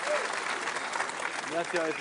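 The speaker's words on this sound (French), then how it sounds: "ce carreau de Quintet avec un tonnerre d'applaudissements" Crowd applause after a carreau in a petanque match at Europetanque Nice, a dense burst of clapping heard under a commentator's voice.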